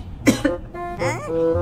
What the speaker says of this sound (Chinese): 我没咳嗽，我就被雪糕呛到了